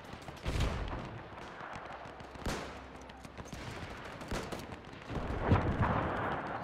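Machine gun fire in the WW1 game Between Empires, a few heavy booming bursts of gunfire over a rumbling battlefield din, moderately loud and somewhat distant.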